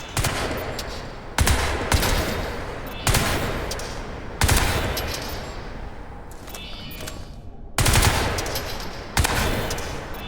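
Automatic weapon fire in Crysis 3 rattles out in several sustained bursts, each opening with a sharp crack and trailing into a dense, echoing rattle, with short pauses between volleys.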